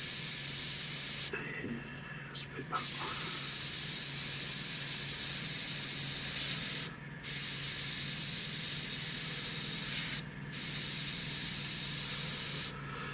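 A Gaahleri side-feed or siphon-feed airbrush, run from a compressor, sprays paint in a steady close hiss that stops briefly three or four times before resuming; no talk.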